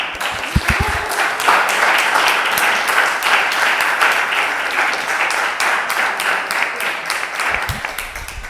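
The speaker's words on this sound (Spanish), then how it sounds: "Un aplauso." An audience claps steadily at a reading event, a dense sustained round of applause that holds at the same loudness from start to finish, with a couple of low thumps near the beginning and end.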